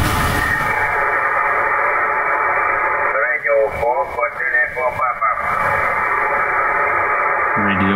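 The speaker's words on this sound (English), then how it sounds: "Now I tune the radio to another station." A Yaesu FTDX 3000 amateur radio tuned across the 20 m band gives a constant hiss of band noise, with warbling tuning squeals and brief garbled voice fragments partway through.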